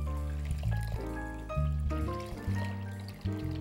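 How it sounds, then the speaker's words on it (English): Water pours into a pan holding sugar for simple syrup, a steady stream whose pitch shifts and rises as the pan fills, heard up close with no talk. "I'm gonna put my 2 cups of sugar into my pan, and I'm gonna put 4 cups of water."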